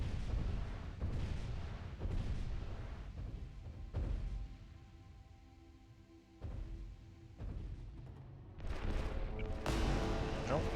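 Heavy booming gunfire from Titan weapons in the Adeptus Titanicus video game, deep rumbling blasts and impacts rolling into one another, loud and sustained with brief lulls.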